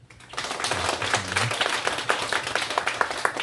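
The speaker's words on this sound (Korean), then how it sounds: "우리 박수로 한번." A church congregation at an eighth-anniversary worship service applauds after an ocarina ensemble's performance: many hands clapping in a dense, busy patter that starts abruptly and continues steadily, with a low voice briefly underneath early on.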